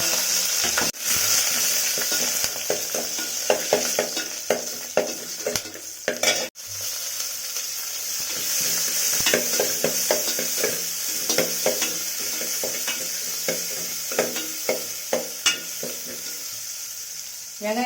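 Whole spices and curry leaves sizzling and crackling in hot oil in a pan for kuruma, with a steady fry and frequent close stirring clatter throughout.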